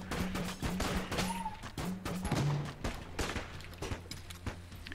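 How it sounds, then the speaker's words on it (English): A weapon fires on automatic in the twin-stick shooter game Enter the Gungeon, a dense, steady stream of rapid shots layered with game effects and music, moderately loud throughout with no talk. "this is one of those weapons where the automatic mode is faster than fanning the weapon."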